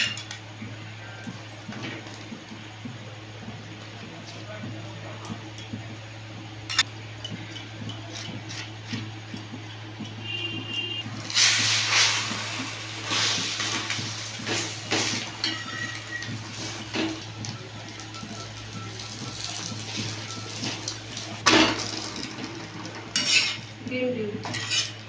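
An egg cooks in an oiled pan for rolls, with a low steady hum under clinking and scraping utensils against the pan and a sizzling hiss that swells about midway and comes back near the end.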